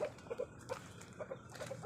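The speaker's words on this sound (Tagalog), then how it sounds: "Chicken." A chicken clucks softly nearby in a series of short, evenly spaced calls, fairly quiet against a calm background.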